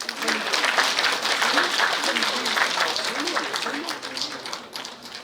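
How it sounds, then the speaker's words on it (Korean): An audience applauds as a North Korean defector is welcomed to the stage to speak about settling in South Korea, producing steady, fairly loud clapping that tapers slightly near the end while a voice talks over it. "큰 박수로 맞이해 주시기 바랍니다."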